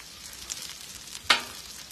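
Soft, steady crackling sizzle of onions frying in oil on a grill, close by, with a couple of sharper pops.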